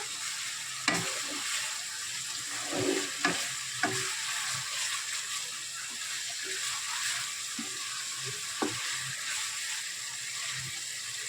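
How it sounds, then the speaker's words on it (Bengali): Spice paste with turmeric fries in oil in a pan for a tengra fish curry, giving a steady close hiss broken by occasional sharp taps and scrapes of stirring. "ভালো করে কষিয়ে নেবো মশলাটা আমার কষানো হয়ে গেছে তেল ছেড়ে দিয়েছে"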